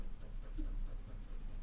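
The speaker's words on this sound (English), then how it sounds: "First, what I like to do is erase my pencil marks." Eraser rubbing off pencil marks on paper during a drawing lesson, a steady, soft scrubbing close by, low and continuous with no talk.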